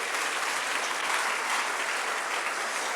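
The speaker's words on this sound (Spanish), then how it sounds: "Dele una fuerte ofrenda de palmas al Rey de Reyes" Congregation at a church service applauds continuously, a dense, steady wash of clapping with no talk.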